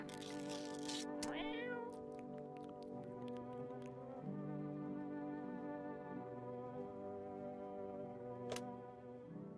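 A cat meows several times nearby, drawn-out tonal cries repeating with short pauses, fairly quiet and with no talk over them.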